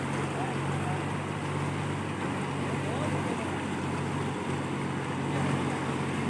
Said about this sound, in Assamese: শুক্লাই নদীত ধাৰাসাৰে পানী আহিছে একদম ধাৰ পানী